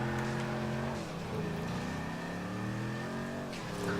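An Ubermacht Oracle sports sedan engine in GTA Online drones loudly and steadily, with the revs dipping and then climbing again, heard alone without talk.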